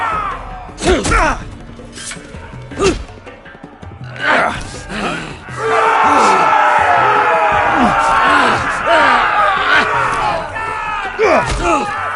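An arena crowd roars and cheers in a video game, a loud sustained swell with shouts and yells layered over it, and voices speak briefly in between.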